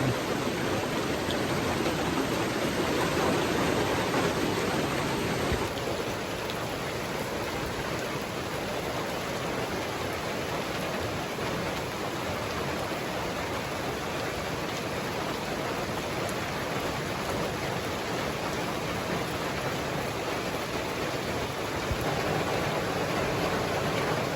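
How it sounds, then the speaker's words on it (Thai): Steady rain falling, heard as a dense continuous hiss and patter near at hand for the whole stretch, with a slight drop in level partway through and no talking. "บรรยากาศก็ประมาณนี้เลยพี่น้องเลยฝนตกเนาะบรรยากาศฝนตก"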